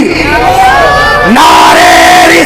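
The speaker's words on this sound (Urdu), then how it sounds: "ایک بار زور سے نعرہ لگائیے" A large crowd at a Jashn-e-Eid Milad-un-Nabi religious gathering roars a loud Nara-e-Takbeer chant in two long, rising unison shouts that fill the space.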